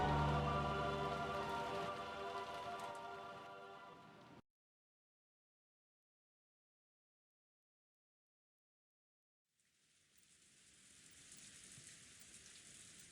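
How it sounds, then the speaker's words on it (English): Rain falls steadily in the visual novel game Umineko as a soft hiss layered over a low music bed. It cuts to silence partway through, then comes back as a thinner wash of rain. "Out into the rain, everyone else goes."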